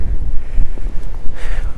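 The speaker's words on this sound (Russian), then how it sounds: "В общем, здесь ветер." Strong wind buffets the microphone in loud, low gusts throughout on a snowy winter beach at Anapa, with a faint hiss of surf in the distance.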